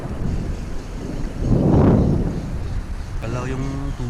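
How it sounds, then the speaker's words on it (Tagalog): Strong wind buffets the microphone in a loud roaring gust that swells and fades while fishing by the water, with a voice faintly speaking Filipino near the end. "Malakas yung hangin mga master."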